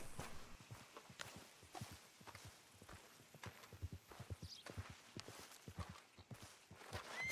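Horse hooves walking in Red Dead Redemption 2, a faint, steady clip-clop of footfalls repeating through the whole stretch, soft and somewhat distant with no talk.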